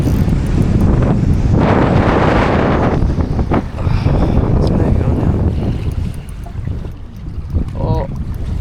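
Wind buffets a fishing boat out on open water, a loud, steady roar of gusts hitting the microphone with water slap beneath, continuing throughout.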